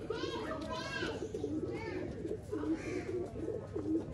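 Pigeons at a bird sale in Bangalore give repeated low, throaty coos in rolling phrases, close and steady. Children's voices and other chatter carry in the background.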